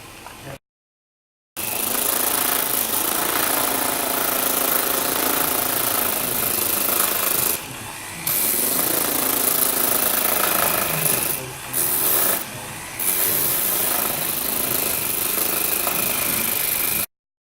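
A rotary carving tool whines steadily at high RPM while shaping a spiral-carved piece of wood, running almost nonstop with a few short dips and pauses where the bit lifts off the work.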